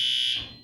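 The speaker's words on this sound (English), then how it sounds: "the fire alarm even went off" A loud, piercing fire alarm tone from a lodge fire system test sounds at full strength, then quickly fades away.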